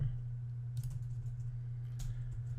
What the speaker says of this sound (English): I'll start typing monthly here so it finds it.